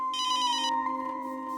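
A mobile phone rings with a bright repeating electronic ringtone, loud and close, with no voices over it.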